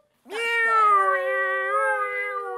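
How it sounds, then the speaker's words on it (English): A single long, loud meow from a pet cat, close and alone in a quiet room, sustained and wavering in pitch for about two seconds. "Here's the cat."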